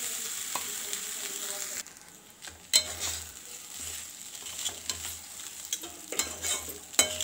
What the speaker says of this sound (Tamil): இப்படி போட்டு நல்லா கிளறி விட்டுறணும், ஒரு ரெண்டு செகண்ட் நல்லா கிளறி விடணும்.